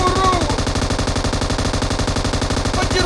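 Sustained automatic gunfire from PUBG Mobile rattles loud and fast in a continuous burst, close and dense throughout with no pauses.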